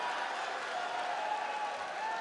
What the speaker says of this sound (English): This crowd's loving it.